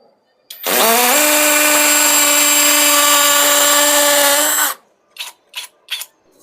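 A cordless brushless drill set to hammer mode bores into a wall in one loud, steady sustained whine lasting about four seconds, then stops abruptly and is followed by three short separate bursts.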